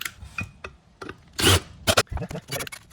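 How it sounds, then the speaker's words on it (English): Short scraping rasps of abrasive rubbed over an alloy metal surface being prepared for TIG welding, in irregular bursts with pauses between strokes, fairly close. "first I'm going to scuff it up a bit so it's not all shiny"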